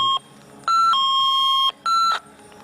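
A motion sensor alarm gives a loud, clear electronic tone in several steady beeps, each held for a moment, with one long sustained note in the middle.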